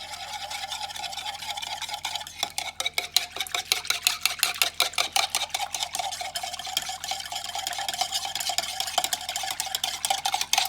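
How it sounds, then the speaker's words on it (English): Cashew chicken sauce ingredients whisked together in a bowl, a steady run of rapid, close scraping clicks from the whisk against the sides that starts after a short pause and continues without talk. "then whisk all that together"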